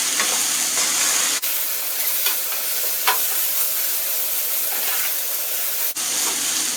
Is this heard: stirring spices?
yes